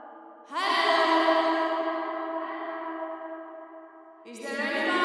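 A voice heavily processed with long, dark cave-style late reverb sounds at moderate level, each utterance trailing into a sustained, smeared tail that lingers before the next phrase begins.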